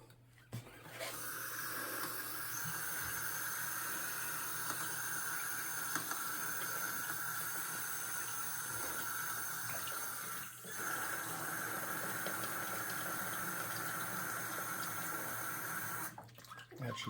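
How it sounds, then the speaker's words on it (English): Water running steadily from a tap into a filter housing during a water filter installation, an even, close hiss and splash lasting most of the time with brief dips near the end. "I like to fill them up with water"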